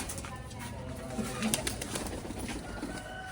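Pigeons coo softly and repeatedly nearby, low throaty calls over a steady background hum, with a few faint chirps.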